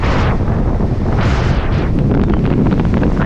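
Strong wind at sea blasting loudly and continuously against the microphone, with a rushing surge and the wash of water underneath.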